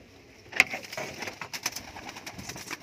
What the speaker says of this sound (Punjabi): ਸਭੀ ਪਰਦਾਰ ਕਬੂਤਰ ਹੈ, ਉੱਡਣ ਵਾਲੇ ਕਬੂਤਰ ਹੈ